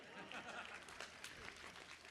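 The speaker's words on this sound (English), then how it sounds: "Round of applause, thank you." Applause from a commencement audience, a steady wash of many hands clapping at moderate distance with faint scattered laughter, lasting only a couple of seconds.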